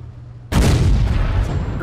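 A tank cannon in World of Tanks, fired by a premium tier 2 AMX 38, lets off a single loud, sudden blast that rolls into a long booming rumble and echo.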